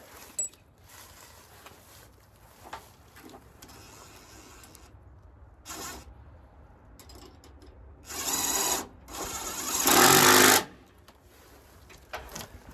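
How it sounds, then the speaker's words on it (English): A large electric impact wrench tightening a fastener during diesel truck repair work in a shop, giving two loud, sustained bursts of whirring and hammering near the end, with quieter mechanical handling noises before them. "I'll tighten this up with the big electric impact"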